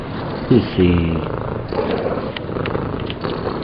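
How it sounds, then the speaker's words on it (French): A cat purrs steadily and close up in a continuous low rumble while a person talks over it. "Tu ronronnes tout le temps."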